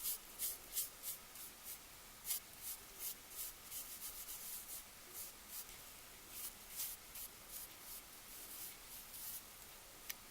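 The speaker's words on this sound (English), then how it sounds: "I'm just taking this soft paintbrush and trying to brush off as much of the excess as I can" A soft paintbrush sweeping excess material off a decorated bling cross, giving quiet, rhythmic bristly brushing strokes repeated close up, faint and with no talk.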